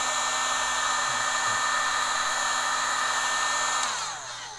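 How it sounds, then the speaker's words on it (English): A heat gun running on its low setting blows with a steady, loud whooshing hum and a constant motor whine, then winds down near the end as it is switched off. "This heat gun, even on low, gets very hot."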